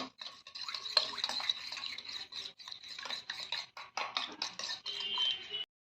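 An egg with salt is beaten in a bowl, a quick irregular run of soft scraping, clicking strokes close by, continuous with short pauses and no talking.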